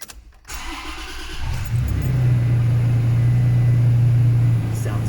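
A Toyota Tacoma TRD Pro pickup with an automatic transmission cranks briefly and fires up, then settles into a loud, steady idle rumble close by.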